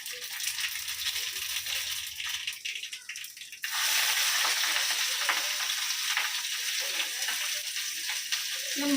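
Grated carrot relish being tempered in a hot pan: quieter rattling and stirring first, then a sudden loud, steady sizzle and crackle of frying that carries on to the end.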